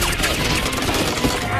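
A barrage of rapid gunfire in an anime battle scene, with shots crackling densely and continuously at close range throughout, blended with a loud, busy action soundtrack.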